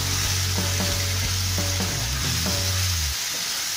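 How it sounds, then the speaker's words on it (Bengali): Prawns fry in a pan with salt for a Bengali malaikari, a steady loud sizzle broken by a few rhythmic scrapes and knocks of stirring, then the sizzle continues alone. "এটা 2-3 মিনিট খালি আমি ভাজবো।"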